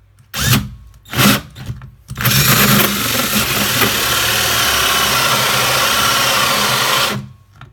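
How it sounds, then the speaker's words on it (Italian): An 18V TECCPO TDHD01P cordless impact drill boring a 73 mm hole in wood with a hole saw: a few short motor bursts, then a loud sustained grinding whir for several seconds before it cuts out. "vediamo se riesce a fare questo foro a 73 mm con questa fresa a tazza per legno"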